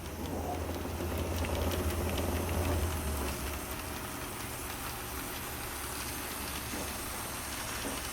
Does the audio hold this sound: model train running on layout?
yes